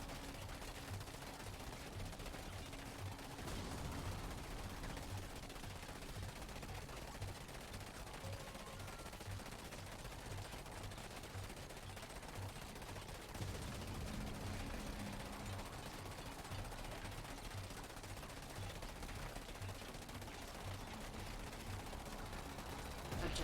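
Sustained gunfire from units in the real-time strategy game Command and Conquer 3: Tiberium Wars, a continuous rattling fusillade with repeated bursts layered over a dense battle din, steady and loud throughout.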